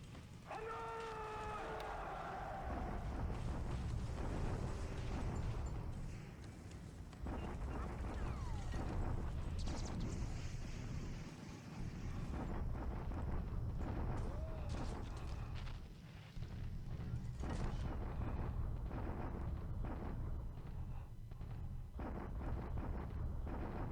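Naval bombardment in a World War II Pacific strategy game set in January 1942, a sustained rumble of booming explosions rolling on and off over about twenty seconds, with a brief voice-like sound early on.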